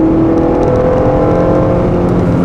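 A manual-transmission car's engine roars loudly at high revs during a downshift, a sustained, steady droning tone heard up close from inside the car.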